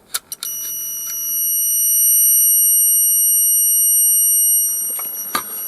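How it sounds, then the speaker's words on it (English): Piercing high electronic alarm tone from a burglar alarm box kit sounding continuously for several seconds, opening and closing with sharp clicks and clatter nearby. "that was the ein'os burglar alarm box kit."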